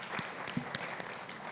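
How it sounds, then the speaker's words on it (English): Audience at a conference forum clapping after a panel of speakers, a steady, moderately faint patter of applause with a few sharper claps standing out. "round of applause to our speakers"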